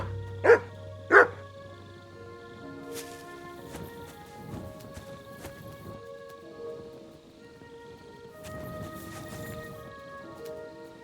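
The dog Mutt in the Kingdom Come Deliverance II video game gives two sharp, loud barks in quick succession, followed by quieter background sounds and a soft music bed.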